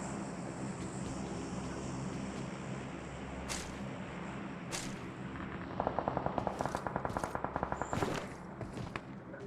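Rapid automatic gunfire in the PUBG battle royale game, a fast burst of sharp shots partway through over a constant low game ambience, with a couple of louder single cracks earlier.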